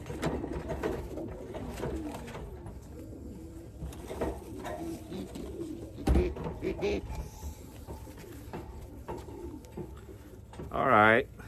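Pigeons in a loft, some larger than homers, give soft repeated coos with occasional wing flutters and a short loud burst near the end, while someone talks over them.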